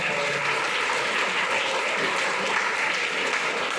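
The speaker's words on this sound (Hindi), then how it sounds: "तालियां बजाते हैं।" At the closing ceremony of an annual coaching session, a crowd claps in a dense, even roar that holds steady and loud throughout, with no voices standing out.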